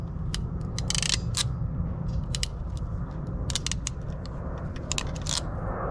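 Thin wires being double crimped with a crimping tool while installing ditch lights on a Ford Expedition hood mount, producing repeated sharp mechanical clicks and ratcheting snaps close up over a low background rumble, with no speech.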